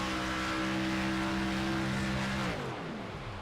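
A race car passes at around 160 mph off the gas, a loud steady engine drone that drops in pitch and fades as it moves away near the end.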